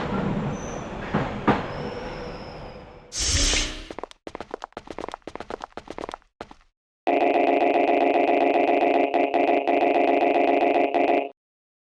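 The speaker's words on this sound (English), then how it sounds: "And there's a subterranean train here?" Subterranean train in the video game Custom Robo, heard with a squeal and chopped rattling, then a loud steady clattering rumble with tonal whine that holds for several seconds before cutting off.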